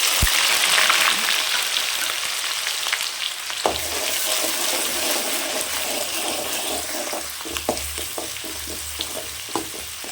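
Shallots and green chillies sizzling in hot oil, a continuous bright frying hiss with occasional stirring clatters and a few sharp pops near the end, close and fairly loud.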